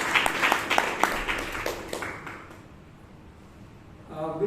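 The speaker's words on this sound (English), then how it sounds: "big round of applause to Toastmaster Sharma" Audience applause at a Toastmasters club meeting in Bangalore, honouring a Toastmaster named Sharma: a burst of clapping for about two seconds that fades away, ending with brief talk.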